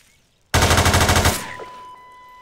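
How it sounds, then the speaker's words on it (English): An HK416 rifle from the M9K video game weapon pack fires a loud, rapid automatic burst of about a dozen rounds, then cuts off into a fading echo and a soft ringing tone. "The next one is the HK416."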